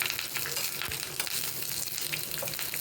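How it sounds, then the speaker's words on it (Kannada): Mustard seeds, urad dal and curry leaves sputter in hot oil as a tempering for coconut chutney, a dense, steady crackling sizzle with scattered sharp pops throughout, close and alone. "ಸ್ವಲ್ಪ ಎಣ್ಣೆ, ಸಾಸಿವೆ, ಉದ್ದಿನಬೇಳೆ, ಕರಿಬೇವು ಸೊಪ್ಪು ಹಾಕ್ಕೊಂಡು ಸಾಸಿವೆ ಚಟಪಟ ಅಂತ ಸಿಡಿಯೋ"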